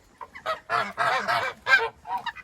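Geese and ducks honking in a noisy cluster of repeated calls, close by and fairly loud, with brief pauses between bursts.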